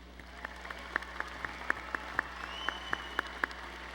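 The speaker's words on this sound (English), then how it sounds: "Let's applaud the graduate students." Sparse, slow clapping from a few hands at a fall commencement ceremony for graduate students, about a dozen distinct claps spaced across a few seconds over a steady low hum of the hall.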